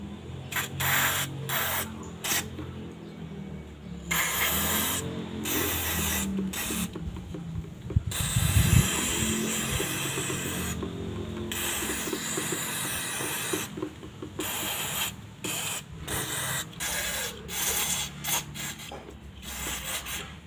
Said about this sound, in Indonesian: Di sini saya menggunakan Rexco 81 ini untuk membersihkan si throttle body Supragetera saya.